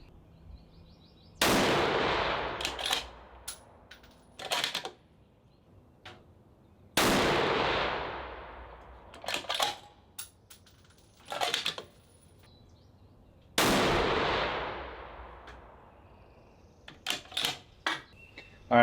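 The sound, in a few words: rifle gunshots fired with muzzle brake or silencer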